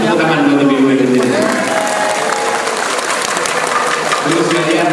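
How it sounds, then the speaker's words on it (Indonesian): Audience applause at an outdoor political gathering with a politician addressing local residents, a steady wash of clapping with a voice speaking over it. "Tepuk tangan buat ibu-ibu di sini."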